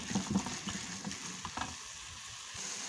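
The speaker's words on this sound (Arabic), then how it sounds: "نقلب البصل لحد ما يدبل" Onions frying and being stirred in a pan for a baked oxtail tagine, a soft sizzle with a few quick scraping stirs early on, then an even, quieter hiss, no voices.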